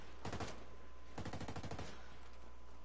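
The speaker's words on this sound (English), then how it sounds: "You will note I'm using full auto fire." Full-auto gunfire in Ghost Recon Breakpoint, heard as two rapid bursts of shots about a second apart, fairly faint and with no talking over them.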